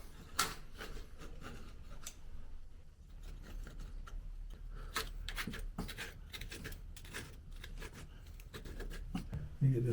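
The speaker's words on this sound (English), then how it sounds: "let me see if I can cut this grout out" A utility knife scrapes grout out of a shower tile joint in close, rapid, gritty strokes, a continuous run of short rasping scratches at low volume.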